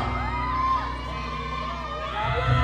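Fans screaming and cheering at a mini concert with PBB housemates, a dense, sustained wall of high-pitched shrieks and shouts that swells louder near the end.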